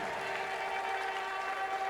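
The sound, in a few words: congregation clapping during a sermon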